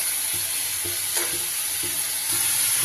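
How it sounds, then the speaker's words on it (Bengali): Onions and tomatoes fry in a pan with a steady close sizzle, and a spoon scrapes and stirs them in a regular rhythm of soft knocks roughly every half second. "কাঁচা পেঁয়াজের গন্ধটা যতক্ষণ না যাচ্ছে ততক্ষণ এটা আমি ভালো করে একটু কষিয়ে নিই।"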